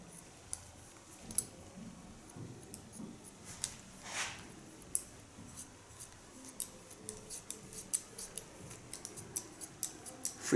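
Scissors snip freehand through a woman's hair during a punky pixie cut, making a steady series of light, close, crisp cuts with short gaps between them, some quicker bursts toward the end, and no talking.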